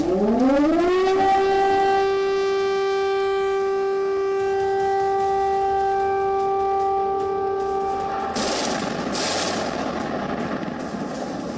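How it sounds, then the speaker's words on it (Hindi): An air raid siren in Ukraine winds up and holds a long, steady wailing tone, loud and alone, with a burst of noise near the end. "सायरन की आवाजों से दहशत का दायरा बढ़ता जा रहा है"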